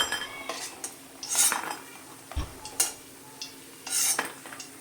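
A metal utensil lifts fried lentil dumplings out of hot oil in a pan, with scattered close clinks and scrapes of metal against the pan over a faint, low sizzle.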